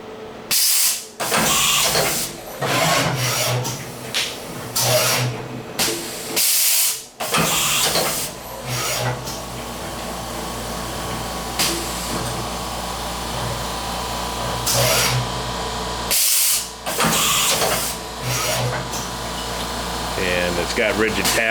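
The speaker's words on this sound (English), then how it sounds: "It's gonna run through a quickie drill program." A Hardinge DT-480P3 CNC drilling and tapping machine with indexer runs a fast drill program, loud hissing air and mechanical whirring broken by sharp bursts and brief pauses as the spindle moves between holes.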